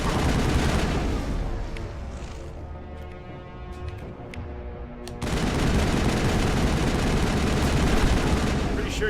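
Weapon fire in the Mass Effect video game, a dense loud burst of rapid shots at first, easing into a quieter stretch with scattered sharp reports, then resuming as heavy sustained automatic gunfire.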